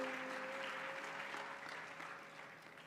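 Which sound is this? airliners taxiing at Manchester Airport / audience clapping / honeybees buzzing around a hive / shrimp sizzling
audience clapping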